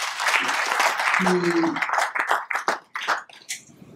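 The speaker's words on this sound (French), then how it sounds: "je vous demande d'applaudir très très fort" Audience applause during an entrepreneurship talk in Senegal, a short burst of clapping that rises under a speaker's voice and then breaks into scattered individual claps as it fades.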